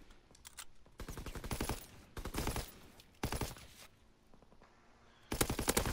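Bursts of automatic gunfire in the World War II shooter Call of Duty WW2, rapid rattling volleys in several separate clusters with short quiet gaps between them, loud and close, no talking.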